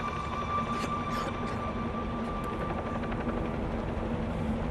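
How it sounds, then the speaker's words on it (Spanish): A helicopter over a volcano drones steadily with a continuous rotor rumble that stays loud throughout, with no voices. "El ruido del helicóptero era cada vez más fuerte"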